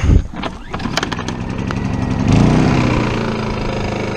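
A small Honda portable generator engine runs loud and close, chugging steadily with a slight rise in pitch partway through, alone without speech.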